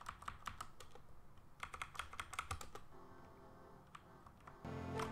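Computer keyboard keys clicking in quick bursts as a PS1 classic Final Fantasy VII game is played on a computer, close and quiet, then a low hum rises near the end.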